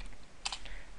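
A few quick keystrokes on a computer keyboard while entering a command in a terminal, soft close clicks in a brief cluster against a quiet background.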